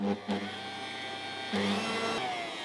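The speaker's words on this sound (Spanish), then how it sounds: "vertemos las claras en el recipiente de la batidora y comenzamos a batir a velocidad máxima" An electric mixer beats egg whites at maximum speed with a steady whirring hum, briefly stopping and restarting a few times.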